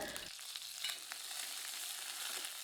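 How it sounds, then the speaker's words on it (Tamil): Mustard seeds splutter in hot oil, sizzling and crackling with scattered small pops, steady and close, with no voices. "இப்போ எண்ணெய் சூடாயிடுச்சுங்க தாளிக்க அரை டீஸ்பூன் கடுகு கடுகு பொரியது"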